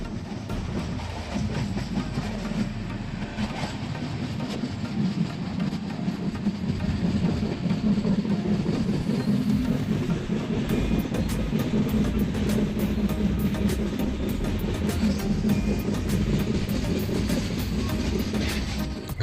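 The Goa Express, train 12779 from Madgaon to Belagavi, rumbles steadily from inside the coach, a continuous loud roar with faint rhythmic rail clicks throughout and no voices.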